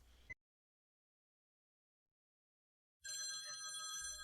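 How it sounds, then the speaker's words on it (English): A telephone rings in the animated Spaceballs series, bursting in loud and steady after a stretch of near-total silence and continuing to the end. "Oh, a phone call."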